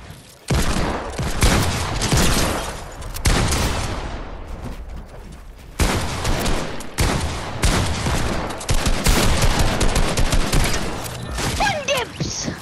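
Desert Eagle pistol gunfire in Fortnite, heard as dense bursts of loud, rapid shots and booms with a brief lull midway, continuing near and intense.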